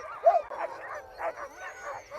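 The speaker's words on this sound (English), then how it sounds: "as you can hear, we are now pretty much getting ready to head off. Dogs are all harnessed. They're all keen to go." A team of harnessed sled dogs barks, yips and whines eagerly before setting off across a frozen lake on a polar expedition, a close, continuous chorus of overlapping excited calls.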